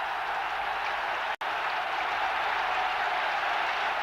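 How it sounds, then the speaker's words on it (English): Stadium crowd clapping steadily at a cricket match, a dense continuous wash of applause from far around the ground, with one brief dropout. "a clapping breaks out around the stadium to see if they can clap him to 50"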